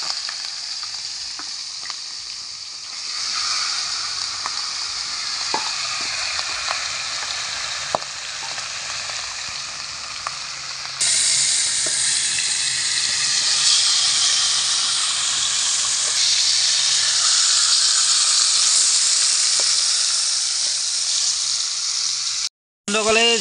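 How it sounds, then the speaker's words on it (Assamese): Fish heads sizzle and crackle steadily in hot oil in a pan, a loud, continuous frying hiss with scattered pops that grows brighter and more intense partway through, with no talk over it. "বন্ধুসকলে যোনখিনি মাছৰ মাথাখিনি যে ফ্ৰাই কৰি আছে"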